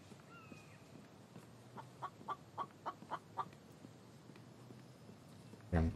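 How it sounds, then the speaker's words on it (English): Chicken in a video game clucking in a quick series of about eight short, evenly spaced clucks near the middle, over a low ambient hum, followed by a loud thump at the end. "Chicken."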